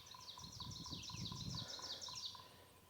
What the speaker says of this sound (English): enjoying listening to the woodpeckers and the birds